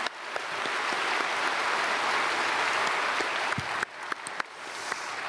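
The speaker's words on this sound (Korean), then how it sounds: "우리 박수로 환영하겠습니다." A church congregation at Sunday worship gives sustained applause to welcome newly registered members, a dense wash of clapping that thins out near the end into a few scattered claps.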